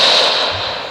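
Firecrackers burst inside a Diwali video game near a house, a brief loud crackling blast that fades quickly, with no talk over it.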